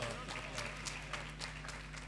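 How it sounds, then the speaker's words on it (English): Audience applause at a university welcome ceremony for new undergraduate students: dense, steady clapping from a crowd that fills the whole stretch, with voices mixed in. "give yourself a round of applause."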